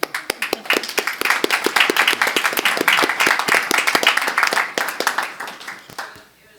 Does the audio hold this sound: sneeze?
no